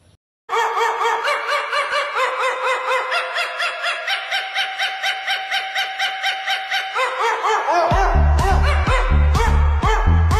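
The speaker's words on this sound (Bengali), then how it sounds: "কিন্তু কুত্তার গান কি ট্রেন্ডিংয়ে শুনেছো?" A song built from dog barks, rhythmic yaps repeating in a steady melodic pattern over music, loud and continuous, with heavy bass beats entering toward the end.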